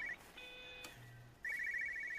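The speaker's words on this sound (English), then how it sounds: "There's like a cell phone." An electronic phone ringtone in the video game Everybody's Gone to the Rapture trills in short repeating bursts, clear and fairly close, with a brief low tone and quiet background between rings.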